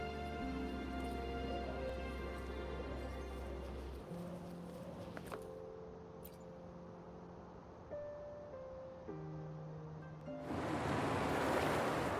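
Water draining away and receding in the video game Wuthering Waves, a steady rushing wash with game music tones layered over it, swelling louder near the end.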